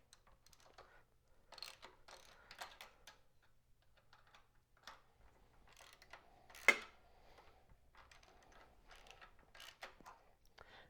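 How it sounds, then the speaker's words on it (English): Faint clicks and light metallic ticks as a T25 Torx bit backs out two bolts on the rear brake tip of a 2023 KTM XC 300 dirt bike, with one sharper clack partway through. "removing this is really easy. Just need a T25 Torx bit on these two bolts here"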